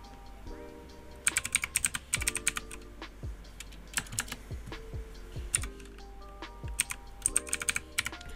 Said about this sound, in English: just type in the host address right here.